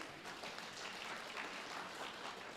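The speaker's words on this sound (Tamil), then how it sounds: "வந்திருக்கிறவங்க நான் சொல்லாமலே கைதட்டுறீங்கன்றது டபுள் பாராட்டுக்குரிய அம்சம்" Faint, distant clapping from a crowd at a Tamil pattimandram comedy debate, a steady wash of hands applauding without any clear individual claps.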